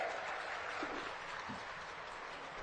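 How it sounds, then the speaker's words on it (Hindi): Steady, moderately faint applause from an audience welcoming Chief Minister Vishnu Deo Sai at an outdoor development-works ceremony in Kondagaon, a continuous wash of clapping with no voices over it. "एक बार मुख्यमंत्री जी का जोरदार ताली बजा के अभिनंदन कर दें।"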